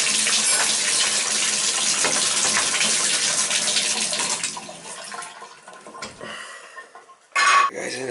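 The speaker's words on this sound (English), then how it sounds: "Guys, I gotta shut the water off" A bathtub faucet runs in a loud, steady hiss of splashing water for several seconds, then fades and stops, followed by a few faint clinks and one short sharp burst.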